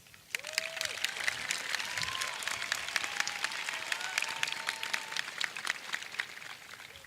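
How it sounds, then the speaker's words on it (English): A high school graduation audience breaks into applause, clapping rising quickly after a brief quiet start and holding as a full, crowded patter with scattered cheers and voices mixed in. "Give yourself a round of applause."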